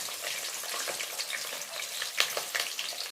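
Sliced onions and green chillies frying in oil in a pan for bagara rice, a dense, steady sizzle with crackles and the scrape of stirring, close and continuous, without talk.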